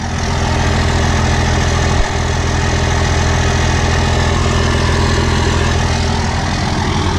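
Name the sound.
diesel truck engine idling through 4-inch turbo-back exhaust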